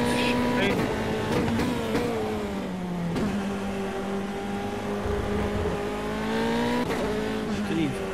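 F3 single-seater race cars at Oulton Park work through a chicane, engines droning and shifting pitch under braking and acceleration, with a commentator talking over the steady track noise.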